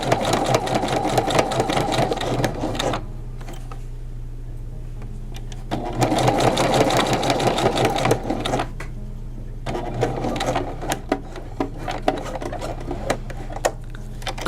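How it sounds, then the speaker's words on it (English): Sewing machine running in three long bursts of rapid, steady stitching, top stitching fabric about a quarter inch in on elastic-waist drawstring pants, with short pauses and light handling clicks between runs. "Top stitching in progress."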